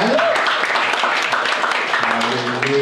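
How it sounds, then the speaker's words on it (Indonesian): Applause from a church congregation at a youth worship service, a steady dense wash of many hands clapping, fairly loud throughout, with a voice and some musical tones faintly underneath. "kasih tepuk tangan"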